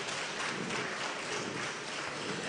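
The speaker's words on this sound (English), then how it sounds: "I think ITF deserves a round of applause for that." An audience at an industrial manpower summit applauds, a continuous wash of many hands clapping, even and fairly distant.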